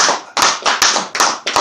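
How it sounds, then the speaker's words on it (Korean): Audience at a Buddhist lecture on non-self clapping in a brief, close burst, a handful of sharp, loud claps in quick, uneven succession. "박수 한번 쳐야 되는데"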